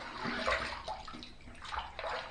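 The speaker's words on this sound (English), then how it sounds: "Just waiting for the water to get a little warm there." Tap water runs for a rinse after a shave with a Simpson Trafalgar T1 razor, a quiet steady splash and trickle into a basin.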